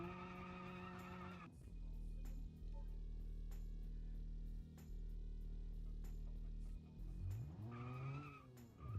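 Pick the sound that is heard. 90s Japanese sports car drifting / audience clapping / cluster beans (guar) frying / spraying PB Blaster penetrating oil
90s Japanese sports car drifting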